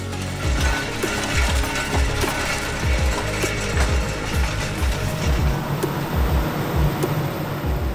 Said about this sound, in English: With a Quadtrac 620 and a Xerion 4200, there are two real agricultural giants at work in the field.